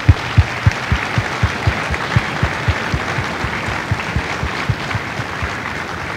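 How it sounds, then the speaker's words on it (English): Applause for drill instructors and families at a Marine Corps recruit graduation in San Diego: a crowd clapping in a strong, regular unison rhythm, about four claps per second, over a wash of scattered clapping, steady and fairly close. "Please join me in a well-deserved round of applause for the drill instructors and families of Bravo Company."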